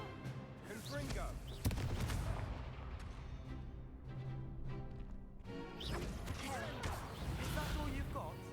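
A blasting spell from Hogwarts Legacy goes off amid battle noise, a sharp impact near the start, then further crashes and thuds under game music and voices, faint overall.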